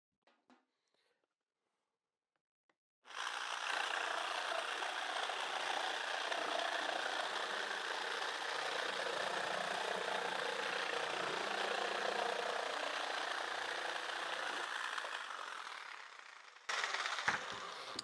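A jigsaw cutting wood along a template jig, a loud continuous buzzing saw run of about fourteen seconds that starts abruptly after quiet clicks, then stops before a short final burst.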